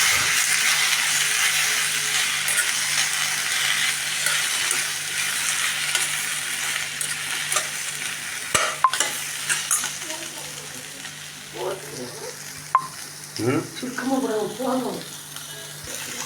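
Chopped capsicum sautéing in a pan gives a broad hissing sizzle that slowly fades, with a couple of utensil clicks, while a voice talks over the later part.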